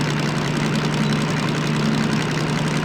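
A diesel locomotive in the train simulator Derail Valley drones on under throttle, a steady, loud, low engine hum with an even vibration and no break.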